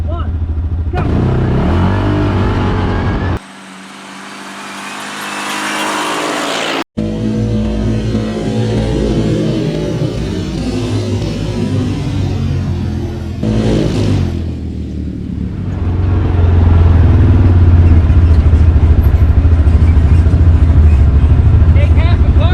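Yamaha Rhino, Raging Rhino and Wolverine X4 side-by-sides drag racing outdoors: loud engines rev and accelerate hard, with one sharp bang partway through and a roaring pull at the end, while people talk over the noise.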